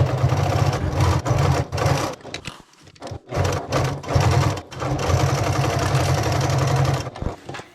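A sewing machine bastes a backpack's lining to its exterior panel along the outer edge, running in steady loud stitching bursts with brief pauses between runs.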